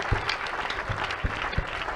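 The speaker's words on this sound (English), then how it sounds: "A big clap offering to Jesus." A church congregation at a crusade in Imo State claps briefly, with a few distinct louder claps standing out over a soft scattered patter, fairly quiet overall.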